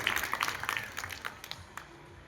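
Faint, scattered clapping from a small crowd at a school gathering, fading out over a couple of seconds.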